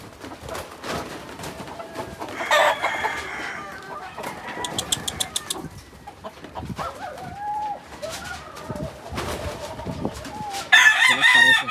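A Sweater Kelso gamefowl rooster crows and clucks on a farm, its calls fairly close and loud, rising and falling in several bursts with other bird chirps around.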